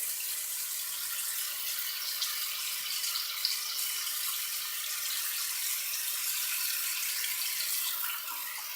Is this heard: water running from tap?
yes